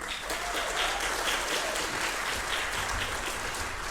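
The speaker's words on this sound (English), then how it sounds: "So please give them lots of applause and really divvy them on." Audience applause at a school drama festival, a dense, even wash of clapping sustained for the whole stretch at moderate distance, with no speech over it.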